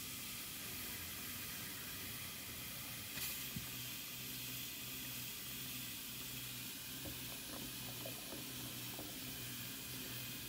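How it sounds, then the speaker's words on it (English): Faucets in a trailer run during winterizing flushing, a faint, steady hiss of flowing water with occasional small clunks, continuous throughout and without speech. "let it run until the pink water flushes out and you got clear water"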